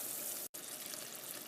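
Isomalt boiling in a pot while cooking sugar for cake decorating, a dense continuous bubbling hiss that cuts out for an instant, then resumes.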